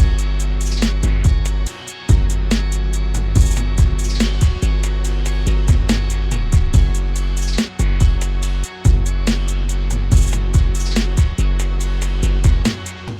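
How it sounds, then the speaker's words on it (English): EZdrummer crashes and toms in a dark alt-rock beat: loud, steady programmed drums with repeated bright crash hits and deep tom fills, the pattern cutting out briefly a few times. "Here is this easy drummer. This has a few crashes in it and a few toms."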